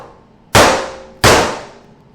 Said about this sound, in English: Bring your car to Harrow's where I'll hit it with a hammer.